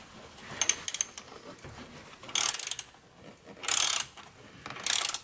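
A ratcheting wrench tightening a car battery hold-down, heard as several bursts of fast clicking strokes separated by brief pauses, close and clear, without talk.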